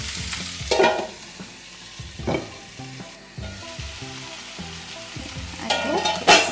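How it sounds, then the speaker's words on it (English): Butternut squash sautéing in a pan gives a steady sizzle, broken by several louder scraping stirs with a utensil against the pan and a brief lid or utensil clatter near the end. "So just saute it."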